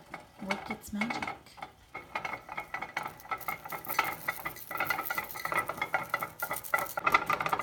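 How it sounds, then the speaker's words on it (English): A spoon scrapes and clinks around inside a metal pot of melting beeswax in a steady stirring rhythm, close and fairly loud, with no talking. "So I'm going to stir it up and let it work its magic"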